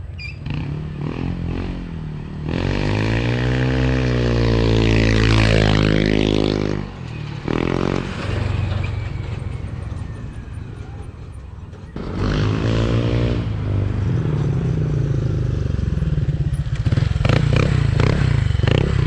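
Motorcycle fitted with an MT8 exhaust pipe, heard outdoors as a loud, close engine rumble with two strong revs climbing and falling in pitch, settling into a deep burbling idle between them.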